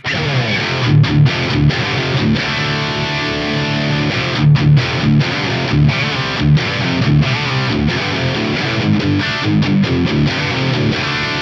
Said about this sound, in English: I'll let you hear what the enhancer does